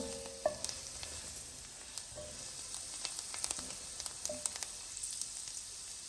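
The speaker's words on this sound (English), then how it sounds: "So it's gonna sizzle for about a minute." Garlic sizzling in hot oil in a pot, a steady soft crackle with scattered sharp pops and spits throughout, fairly quiet and close with no talking.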